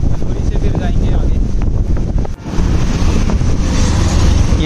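Strong wind at Manori beach roars steadily against the microphone, a loud continuous buffeting rumble with a faint wash of surf beneath and a short dip midway.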